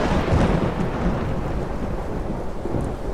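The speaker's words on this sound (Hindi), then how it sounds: "चारों तरफ बारिश, नदी में पानी बढ़ रहा था।" Heavy rain with rolling thunder in a cartoon storm, a dense continuous roar of downpour with a low rumbling swell near the start, loud and steady with no voices.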